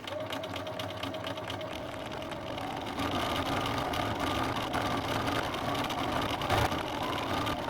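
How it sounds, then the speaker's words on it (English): Sewing machine stitching bed-sheet fabric into a tube: a continuous mechanical whirring hum, close and steady, rising slightly in intensity partway through, with no talk. "I need to sew this into a tube"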